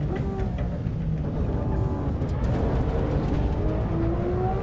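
A steady, loud car engine drone with faint clicking rattles from the car banging, continuous throughout, in the racing game Assetto Corsa Evo.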